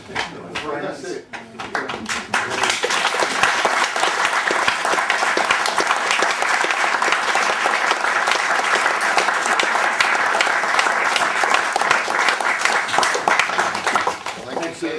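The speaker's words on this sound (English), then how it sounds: "Another round of applause for Matthew Scott Gilmour." Audience at a talk about Syd Barrett and Pink Floyd applauds, with a few scattered claps building quickly into long, full, steady clapping that fills the room and carries on at an even level for over ten seconds.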